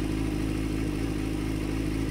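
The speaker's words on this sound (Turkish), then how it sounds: "Şöyle bir ara gaz verelim." A Yamaha MT-09 motorcycle engine in the Ride 4 racing game holds a steady, low, droning hum at moderate level with no clear rise in pitch, heard alone without voices.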